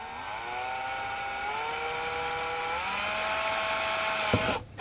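A power drill whines steadily as it bores a small hole through the carpet of a 2020 Chevrolet Colorado pickup. The motor pitch drifts slightly downward, then the drilling stops abruptly with a clunk.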